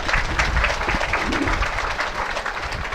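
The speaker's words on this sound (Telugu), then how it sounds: "గట్టిగా చప్పట్లు కొట్టండి" A church congregation applauds loudly at an anniversary celebration, a dense, steady wash of clapping filling the space throughout.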